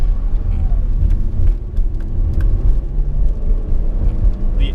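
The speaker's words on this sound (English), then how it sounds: "The engine does have a decently nice sound to it. I do like how the engine sounds. Obviously just a V6" A 2007 Mazda CX-9's V6 engine hums as a steady low rumble while the SUV drives normally, with road and cabin noise and a few faint clicks on top.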